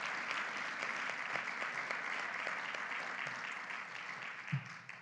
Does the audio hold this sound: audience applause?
yes